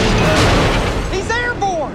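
A Wonder Bread stock race car slams into the outside wall on a NASCAR-style track with a loud, broad boom and crash, followed by scraping debris, heard under a commentator's voice and crowd noise.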